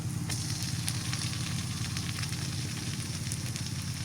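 Garlic paste goes into onions frying in mustard oil, and a steady close sizzle with faint crackles carries on without pause, no speech.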